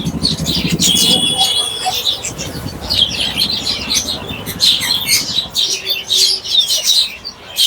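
Caged birds and pigeons at a busy bird market in Bamongachi chirp and tweet continuously, with pigeon coos and some wing flapping, close and lively throughout, with people talking in the background.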